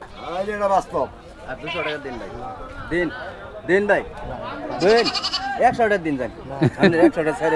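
Goats at a busy rural goat market in Kaitla, Mirzapur, Tangail, bleating repeatedly and loudly from close by, many overlapping calls amid crowd chatter and people talking.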